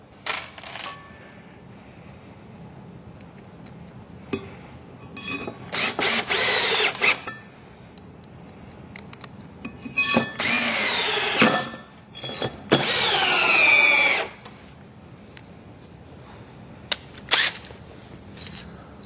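A power drill drives screws into pre-drilled holes while residing is installed, giving three loud, close whirring bursts of a few seconds each, separated by quieter handling clicks and knocks.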